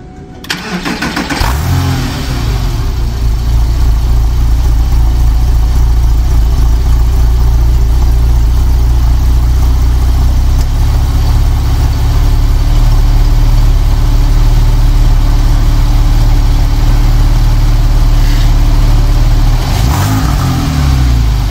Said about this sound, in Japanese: じゃあちょっとエンジンかけてみますね。